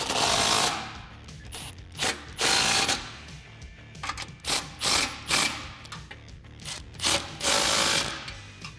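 An 18mm deep socket on a ratchet tightens bolts on a Jeep Wrangler JL rear bumper mount, sounding as repeated bursts of fast clicking ratchet strokes separated by short pauses, close and fairly loud.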